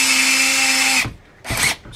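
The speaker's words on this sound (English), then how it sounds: "We're going to center it into the middle of the slot, and we will drill." A drill press bores into a broken screw in a Mitchell 300 fishing reel, giving a loud, steady whining run that stops abruptly, then a second short burst of drilling.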